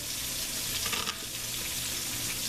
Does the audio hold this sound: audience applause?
no